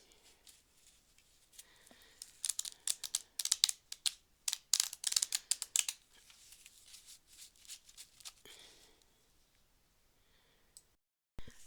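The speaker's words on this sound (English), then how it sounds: "I'm going to give the cards a couple shuffle" A deck of tarot-style fairy oracle cards being shuffled, with rapid bursts of crisp riffling and flicking in two main runs, close and fairly quiet, then a brief pause and a final tap; no talking.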